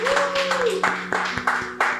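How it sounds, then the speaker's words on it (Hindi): Audience applause at a Hindi poetry and shayari meetup in Gurgaon, a dense patter of clapping hands lasting about two seconds with a voice speaking over it. "जोरदार तालियां, जोरदार, बहुत अच्छे, थैंक यू।"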